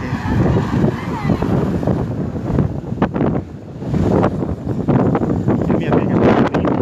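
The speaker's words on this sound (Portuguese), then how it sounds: "Forte ventanias há mais de 30 minutos." Strong storm gusts of near-hurricane force sweep a city street in front of the bus station in Arcoverde, Pernambuco, roaring steadily and loudly against the microphone with brief surges and dips throughout.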